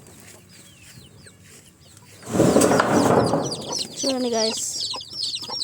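Young chicks on a natural organic farm cheep in quick, thin, high peeps, joined midway by a louder burst of noise and a brief low clucking call, with a person speaking briefly.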